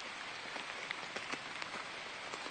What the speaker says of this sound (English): tenting in the rain